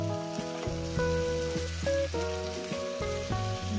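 Chicken pieces sizzle in a frying pan with a steady crackling hiss, partly masked by louder melodic music playing over it.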